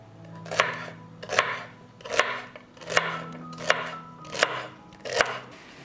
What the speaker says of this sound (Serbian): iseckat ću celer.